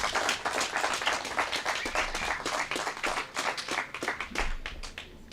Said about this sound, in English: how about a huge round of applause for these guys?